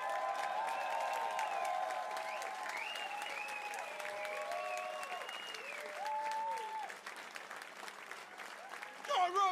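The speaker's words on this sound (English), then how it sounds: "Give yourselves a round of applause." Applause from a comedy club crowd at Brighton Komedia at the close of a stand-up show, steady dense clapping throughout, while the comedian keeps talking over it.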